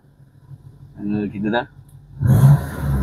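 A used car's engine revs out through the exhaust in a loud, rough burst near the end, just after a few spoken words from a man over a low idle.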